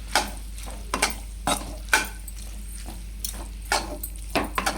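Pasta with salt and masala is stirred in a pan on the stove, giving a series of close scraping and clattering strokes over a low, steady background hum.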